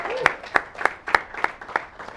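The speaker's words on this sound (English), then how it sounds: "Give him a round of applause." A small audience clapping, heard as seven evenly spaced, distinct hand claps in a steady rhythm, fairly close and loud, with faint murmur between them.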